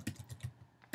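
Quick, light keystrokes on a computer keyboard, about six soft clicks in a steady rhythm within a second, close and fairly quiet.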